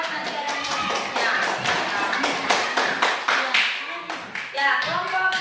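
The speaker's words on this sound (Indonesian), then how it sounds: "tepuk tangan buat Nadia dan kelompoknya" Classroom applause for Nadia and her group: a scattered run of hand claps with uneven rhythm, moderately loud and close, continuing for several seconds with no talk over it.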